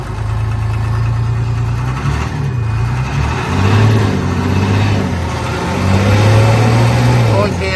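A vehicle's engine, dusty and with a possible leak, revs in repeated rising surges over a steady idle, loud and close, while people talk nearby.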